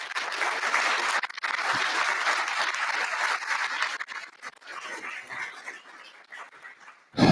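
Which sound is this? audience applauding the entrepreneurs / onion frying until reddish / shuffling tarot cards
audience applauding the entrepreneurs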